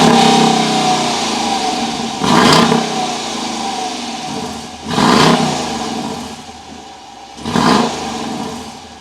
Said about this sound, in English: Now let's start this Durango up and hear that engine.